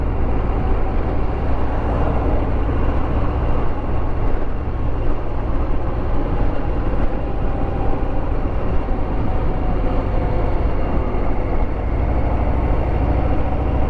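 A Harley-Davidson Sport Glide 107 motorcycle engine runs steadily and close by, a smooth, continuous low rumble with no talk over it.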